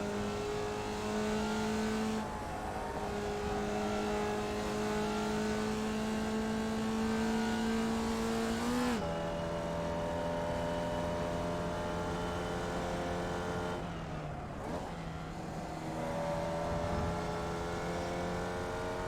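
A Formula Vee race car engine at Laguna Seca in a racing video game, holding a loud, sustained drone with pitch shifts and gear changes that drop the tone and then climb again, with no talk.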